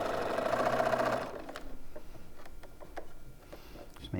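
A sewing machine stitches quilt block patches, a short fast whirring run that stops after about a second, followed by quiet handling clicks.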